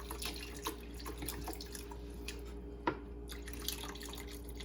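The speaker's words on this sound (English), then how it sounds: "I'm just gonna add chicken broth." Chicken broth trickles and drips steadily into a cooking pot, quiet and close, with a soft continuous pouring sound and a few small splashes.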